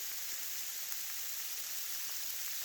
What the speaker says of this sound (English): We got that nasty, sleety, rainy junk coming down again.